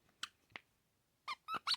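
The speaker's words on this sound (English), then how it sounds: "their squeaker sounds are different too" Squeaker inside a clown toy, two short faint squeaks followed by three quicker, louder squeaks in a quiet room.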